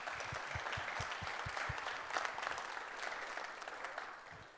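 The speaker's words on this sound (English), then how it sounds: "let's give Maarten a round of applause." An audience claps after a talk at an evening tech meetup held in an office, a steady medium-loud patter of many hands with a few distinct low thumps, fading slightly toward the end.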